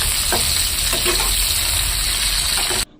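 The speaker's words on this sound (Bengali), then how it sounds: "পেঁয়াজটা আলুটা একটু লাল লাল করে ভাজা ভাজা হয়ে যাবে" Onion and potato fry in a pan for chowmein, a dense, close crackling sizzle with a few stirring scrapes, steady for nearly three seconds before cutting off abruptly.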